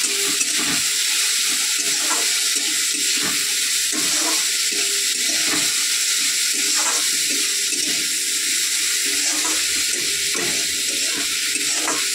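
Water sloshes and sizzles in a pan of curry seasoned with salt and turmeric, a steady close bubbling and stirring texture with rhythmic pulses, no talking.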